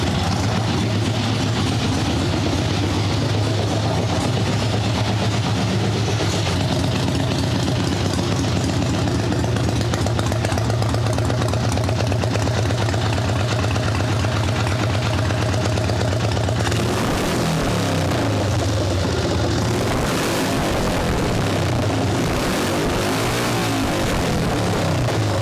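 A swap meet chopper motorcycle engine idles loud and close for a long stretch, a steady rumbling throb that shifts and settles lower partway through.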